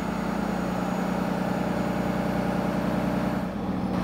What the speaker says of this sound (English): I'm going to rev the engine to governor speed